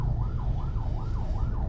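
An ambulance siren wails through rainy Monday-morning city traffic in Cebu City, a loud, steady up-and-down sweep repeating about every half second, close by and alone.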